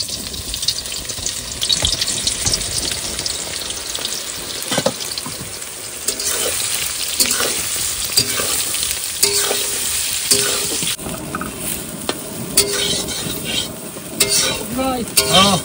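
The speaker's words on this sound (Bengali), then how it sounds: "এবার সয়াবিনগুলো ভেজে নেবো।" Boiled soybean chunks fry in hot oil in a wok with a steady, dense sizzle, broken by scraping stirs and clatter throughout, close and fairly loud, with no talking.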